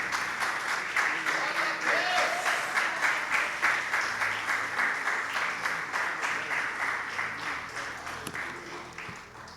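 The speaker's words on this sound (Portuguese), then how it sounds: "E que as palmas louve ao Senhor, que é digno de toda a honra e toda a glória." A church congregation claps in a steady rhythmic beat during an evangelical service, loud and full at first, then gradually fading toward the end.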